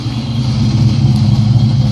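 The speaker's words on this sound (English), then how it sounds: "So I'm going to let you hear the exhaust for a quick second." Steady low rumble of a car exhaust at idle on a vehicle running Pro-M EFI fuel injection, even and fairly quiet, close by with no talking.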